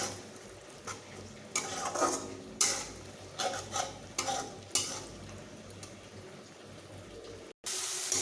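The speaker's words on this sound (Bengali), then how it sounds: "মশলাটি বেশ ভালোভাবে আমি কষিয়ে নিচ্ছি" Onion and spice paste frying in a pan while being stirred, with a steady soft sizzle broken by repeated louder scraping strokes of the spoon, close up and with no voices.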